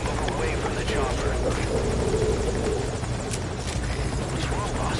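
Steady close rotor drone of a helicopter in Metal Gear Solid V, a continuous low throbbing beat that never lets up, with speech layered over the engine noise.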